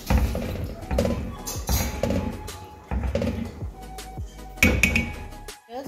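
Semolina halwa is stirred in a pan with sugar syrup, giving repeated clinks and scrapes of a spoon against the metal pan in an uneven rhythm, close up with no talk.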